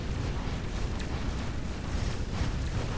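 Dark Fog base cores blowing up in Dyson Sphere Program, a dense, sustained low rumble of explosions with crackling bursts running through the whole stretch, loud and continuous, no talking.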